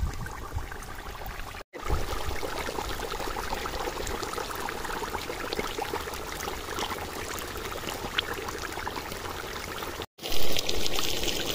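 Milk extracted from maida is poured into a pan of cooked rice for village-style rice halwa, making a steady close trickle that runs unbroken for several seconds, with no talk over it.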